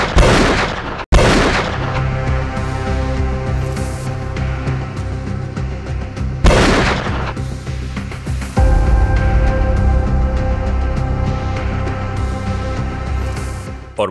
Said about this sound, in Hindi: सरेराह इसी तरह इसे गोलियां दाग दी गईं।